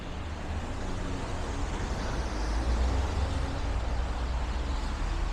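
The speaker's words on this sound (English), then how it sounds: "you do have some noise from some traffic and you pass by the train" Street traffic in Midwood, Brooklyn: a steady, moderate wash of passing road vehicles with a low rumble, continuous ambient noise without speech.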